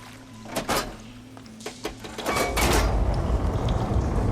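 Machinery in the video game Horizon Forbidden West switches a water flow: a few mechanical clunks and knocks give way to a loud, steady rush of flowing water that fills the second half.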